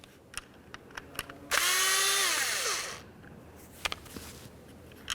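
A power driver backs out a Phillips head screw from a Nissan Titan door panel, one loud whirring burst of about a second and a half that winds down, with small clicks of handling before and after.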